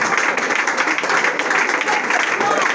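A congregation at a prophetic deliverance prayer service applauds in a dense, continuous burst of clapping, with voices speaking over it.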